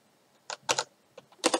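Keys clatter on a computer keyboard in short bursts of crisp taps, close and clear against near silence.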